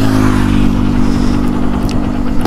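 A motorcycle, just after its chain has been cleaned and sprayed, runs loud and close with a steady engine drone and slight revving throughout.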